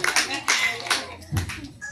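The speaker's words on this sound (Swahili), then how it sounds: "Tumchapie makofi na vigelegele kwanza" Brief clapping and joyful ululation from a children's church congregation in a holiness service, a few short bursts of hand claps mixed with high trilling voices over about two seconds.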